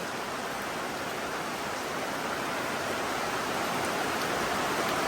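Heavy rain makes a dense, even hiss that holds steady and loud throughout, with no voices.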